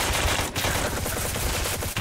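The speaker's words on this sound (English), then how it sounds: "I'm gonna shoot them" Rapid automatic gunfire in the survival shooter game Apocalypse Rising 2, a dense, loud, continuous burst of close shots with no pauses.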